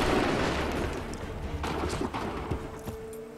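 Scattered gunshots in Assassin's Creed III crack over a rumbling battle din, several sharp reports at irregular intervals against a constant low roar.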